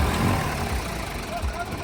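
A tractor engine idles with a low, continuous rumble close by, while faint voices mix in over the running motor.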